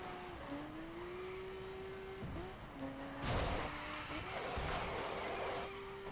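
A car in a PS4 racing game slides across ice, its engine holding a steady droning pitch that dips and climbs again, with bursts of hissing tire scrub and skidding noise partway through.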